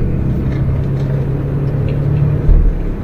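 A car creeps backward through a small yard beside a house, its engine a steady low rumble that swells briefly near the end, close by and with no talking.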